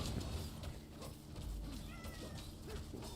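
A house cat meows repeatedly for attention, several short rising cries spread over a few seconds, fairly close, with low background noise and no talking.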